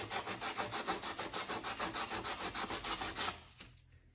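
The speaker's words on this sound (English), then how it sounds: "But I'm going to continue sanding away and see if I can't bring this back to life." Steady rhythmic sanding, a fast back-and-forth rasp of sandpaper on a grooved aluminum chainsaw cylinder, close and loud, stopping near the end.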